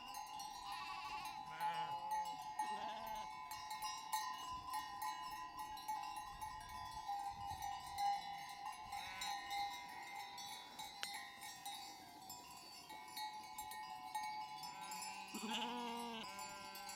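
Sheep bleat repeatedly in a highland farm setting in Ordu, Turkey, as a young ewe gives birth to her first lamb, several calls rising near and loud over a steady background hum.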